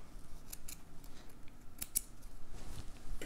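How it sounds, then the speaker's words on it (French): Scissors snip surplus sewing thread while a bra is being sewn, several quick close cuts spaced irregularly with a sharper snap near the end, no voices. "Je coupe mes petits surplus de fil."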